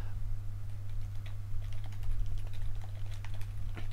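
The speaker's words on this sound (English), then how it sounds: "just me being silent and typing elsewhere" Someone types steadily on a computer keyboard, with rapid, irregular key clicks throughout over a low constant hum, no talking.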